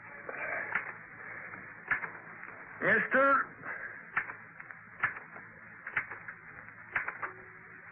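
Rapid, uneven clacking of a typewriter's keys, fairly close, interrupted midway by a brief spoken word.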